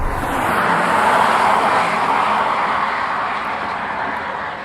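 A BMW E39 525i's engine gives a loud, steady roar with a broad rushing texture, held at high revs with the throttle open, no voices.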